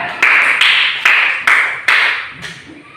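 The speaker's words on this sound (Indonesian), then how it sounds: "Tepuk tangan untuk Najwa" Classmates clap for a student in a school lesson, five sharp, loud bursts of applause in an uneven rhythm that fade to softer taps.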